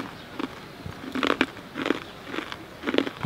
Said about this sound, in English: As you can hear, it's extremely crispy, really crunchy, quite sort of hard crunchy